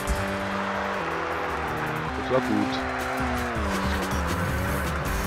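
A race car roars at about 240 km/h in a Group S racing video game, its engine note rising and shifting through gears with a brief tire squeal, loud and continuous while someone speaks briefly over it.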